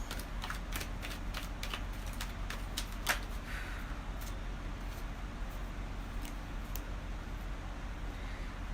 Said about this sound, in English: Pre-shuffle cards.